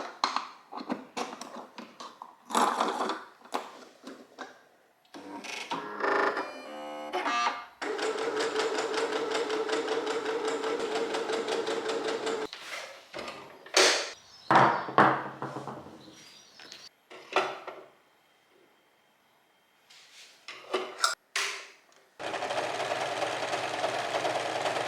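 A sewing machine, apparently a serger with a lower looper, stitches the ruffle sides of a dress in several bursts of steady whirring, with clicks, taps and fabric handling between runs and brief quiet gaps.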